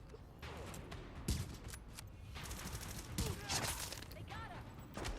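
Bursts of gunfire in The Division, an open-world shooter, crackle and pop in quick, uneven volleys at a moderate distance, layered with clattering game effects and shouted voices.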